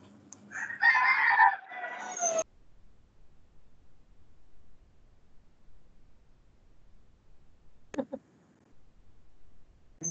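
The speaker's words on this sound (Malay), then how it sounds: "Bunyi ayam." A rooster crows loudly near the start, then after a long quiet stretch a short burst of clucking is heard; a chicken close by, with no talking.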